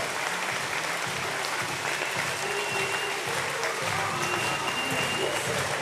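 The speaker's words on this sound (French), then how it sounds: "des applaudissements, quel spectacle" Crowd applause at the Montreux Volley Masters volleyball awards ceremony, a steady wash of clapping from a large audience, moderately loud, with a voice faintly over it.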